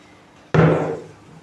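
A single solid thud of an oven door shutting on pies baking at 180 degrees, close by, ringing briefly before fading into quiet.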